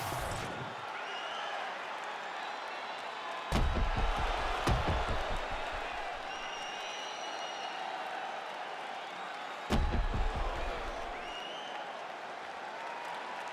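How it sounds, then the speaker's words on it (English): A virtual arena crowd in the UFC 5 fighting game roars and cheers steadily throughout, with a couple of dull thumps cutting through the sustained applause-like wash of noise. "the crowd voicing its appreciation after that crazy sequence in the previous round"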